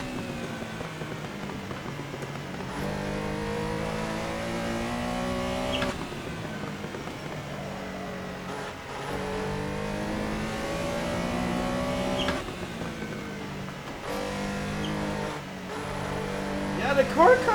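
Porsche 911 Carrera RSR 3.0 racing engine in Assetto Corsa, droning and revving through gear changes at a steady loud level, pitch climbing and dropping repeatedly with brief lifts between shifts.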